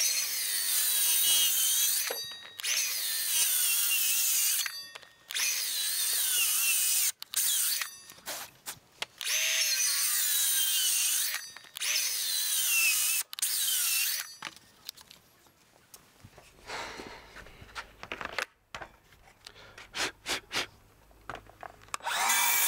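Hand-sawing and chiselling of notches in pergola timber, with bursts of bright rasping strokes separated by short pauses, then a looser run of scraping and tapping.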